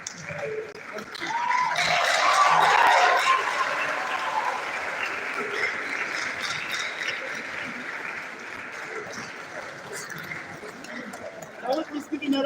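Sustained audience applause at the close of a university lecture in a faculty lecture series, swelling loud in the first few seconds, then settling to steady clapping from a large crowd that carries on to the end.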